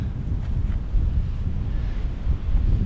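Strong wind buffets a microphone on a moving e-bike, a loud, continuous low roar that surges and dips without pause, with no voices over it.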